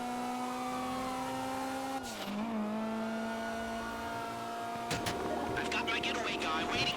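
A car engine in Grand Theft Auto Online drones loud and steady, dipping briefly before climbing again, with someone talking over the driving throughout.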